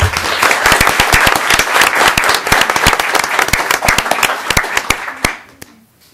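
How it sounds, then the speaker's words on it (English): A school board meeting audience gives staff members loud applause, many hands clapping close by in a dense burst that fades out near the end, leaving a brief murmur. "If we could give these staff members, I'm asking you to stay put so I can get a picture, a round of applause."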